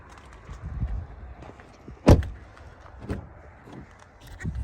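A single sharp car door slam of a Volkswagen Passat B8 rings out near the middle, surrounded by quieter clicks and shuffling of someone moving around the vehicle.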